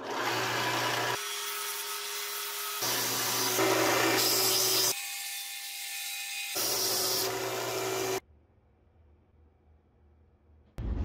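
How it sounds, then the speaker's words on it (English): Strip sander polishing a small wooden bird call piece, a harsh abrasive rubbing whir that comes in several bursts as the wood is pressed on and lifted, then the machine falls quiet. "Now we're going to go to the strip sander"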